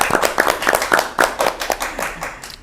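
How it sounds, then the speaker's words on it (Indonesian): Studio audience clapping for a spirituality guest on an Indonesian podcast, a short burst of brisk, fairly close hand claps with no talking over it. "Tepuk tangannya dulu dong buat Teh Ria"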